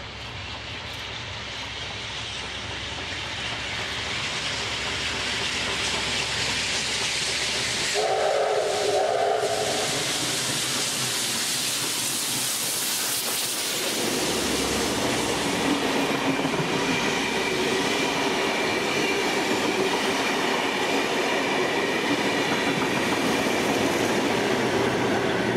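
A 36 class steam locomotive hauls a train uphill through Valley Heights in the Blue Mountains, its loud, steady roar and hiss building close by, with a brief whistle blast partway through.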